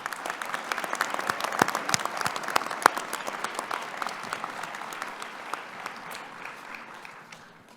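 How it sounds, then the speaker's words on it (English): Audience at a fall university convocation ceremony breaking into applause, many separate hand claps forming a lively, uneven patter that thins and fades toward the end, with no talking over it. "So if you could give me a round of applause for all those who made this possible for you."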